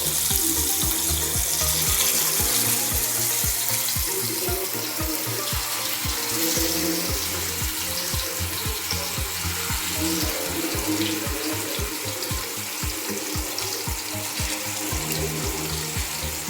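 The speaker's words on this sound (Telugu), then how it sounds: "ఆయిల్ వేడవ్వగానే మనం మ్యాగ్నేట్ చేసి పెట్టుకున్న చేపలను ఇలా వేసుకున్నాము" Marinated korameenu (murrel fish) pieces dropped into about one and a half cups of hot oil, giving a steady, dense sizzle and crackle that runs unbroken at close range with no voices.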